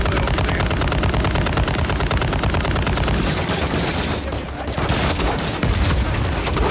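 Dense, loud automatic gunfire in Call of Duty: Modern Warfare 3 during a Frozen Tundra mission firefight, sustained rapid bursts running almost without pause, with a brief dip partway through before the shooting resumes.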